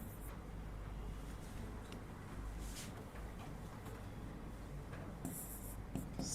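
Pen scratching on paper while working a trigonometry problem by hand: continuous close strokes in short bursts over a steady low background rumble.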